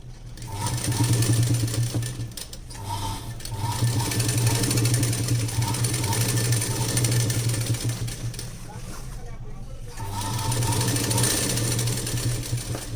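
A sewing machine stitches palazzo pants with a loud, fast, steady mechanical whirr in several long runs with short pauses, while someone talks over it.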